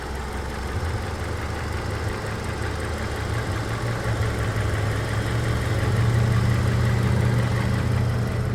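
A 2016 Hyundai Elantra four-cylinder engine idles with a steady, low, even hum and faint vibration, close by and uninterrupted, growing slightly louder toward the end.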